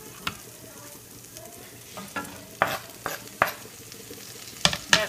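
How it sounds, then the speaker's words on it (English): Napa cabbage and peppers being stir-fried in a pan for an Asian stir fry, with a soft sizzle under scattered sharp clinks and scrapes of a utensil against the pan at irregular intervals, close and fairly quiet. "now we're going to add the Napa cabbage and the peppers"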